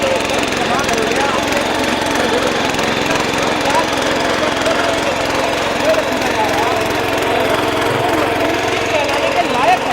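A power tiller engine runs steadily in second gear while forming raised beds in a farm field, a loud continuous mechanical drone that holds level throughout, with someone talking over it.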